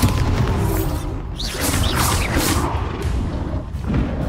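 Bombarda explosion spell in the Hogwarts Legacy video game: a loud, dense blast with deep rumbling booms and whooshing debris that roars continuously in a thick, close wash of noise.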